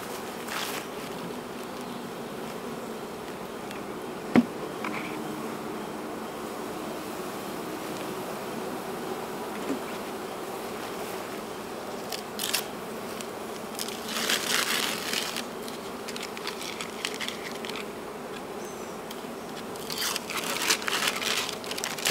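Honey bees buzz in a low steady drone while being moved into a hive on a homestead, with bursts of rustling and crinkling handling noise over it.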